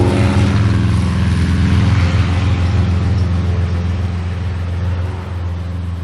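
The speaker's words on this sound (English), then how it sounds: "You can hear that car running a mile away." A car engine runs in a steady, loud drone with a deep, even hum that holds throughout and eases slightly toward the end.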